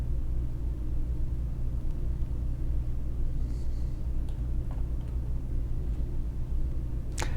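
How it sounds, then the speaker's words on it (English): Hollow moaning wind howls steadily outside an ancient gate in the game Heaven's Vault, a low continuous rumble with faint higher gusts drifting over it, no voices. "The wind outside dropped to a hollow moan."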